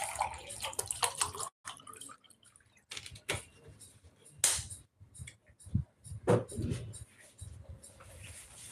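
Water splashing and pouring in short bursts, with drips and gurgles between pauses in an indoor room, moderately close and uneven in loudness.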